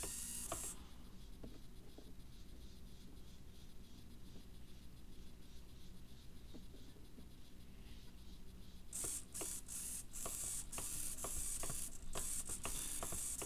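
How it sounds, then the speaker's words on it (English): An RC servo powered by a low-voltage FrSky receiver whirs faintly and intermittently, then grinds back and forth in quick, buzzy bursts near the end. "Definitely notice a speed change in the servo"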